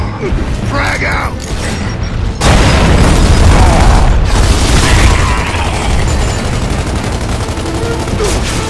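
In Gears of War 2, a frag grenade blast sets off a sudden loud roar of explosion and sustained gunfire. The dense, booming noise swells partway through and carries on in a near, heavy barrage.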